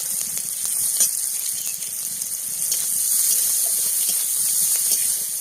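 Leafy greens sizzle in hot oil in a pan with nigella seeds, green chilli and onion, making a steady loud hiss with faint crackles and occasional stirring taps.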